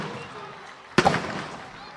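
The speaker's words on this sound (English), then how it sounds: "Fireworks going out" Fireworks going off at Havelock Park before a schools rugby league match, heard as a sudden sharp burst with crackling that quickly fades into the crowd and ambient noise.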